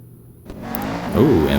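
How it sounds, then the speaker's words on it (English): A Chevrolet Camaro's engine in Real Racing 3, racing at Brands Hatch, rises from near silence into a loud, steady revving drone that climbs and wavers in pitch toward the end. "for this one, sure, we'll take the Camaro out for a spin"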